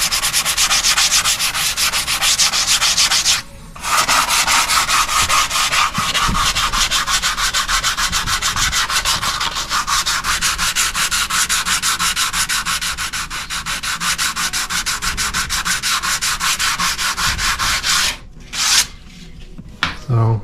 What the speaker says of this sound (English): So I'm using the same DAP Plastic Wood filler on this PVC. It sands super easy, very light pressure.